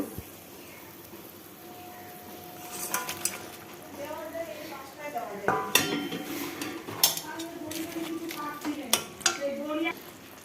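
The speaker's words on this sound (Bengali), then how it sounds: "ঝোলটা ফুটে গেছে এবার মাছগুলো দিয়ে দেব" Fish pieces go into a pan of boiling curry gravy, making several splashing, sizzling bursts and utensil clatters over a background of bubbling. A person talks over the cooking at times.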